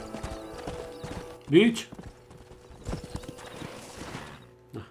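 Horses clip-clop along at a trot in the Red Dead Redemption video game, steady hoofbeats under game dialogue, with a brief loud whinny partway through and a voice speaking over the sounds.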